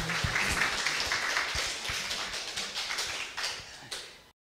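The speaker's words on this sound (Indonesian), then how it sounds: "Kita beri aplaus kawan-kawan" Audience applause after a talk about filming birds in the Papuan forest, a steady patter of clapping hands that thins toward the end with a few last claps before stopping.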